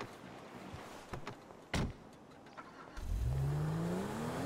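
A dirt bike engine in the GTA RP video game starts and revs up, rising in pitch and holding loud near the end, preceded by a few faint knocks and a door-like thud.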